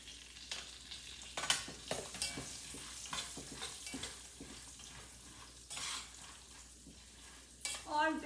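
Curry leaves, red chili and almonds frying in a pan while making a roasted poha chevda snack, with bursts of sizzling and crackling and a few stirring clinks of utensil against the pan.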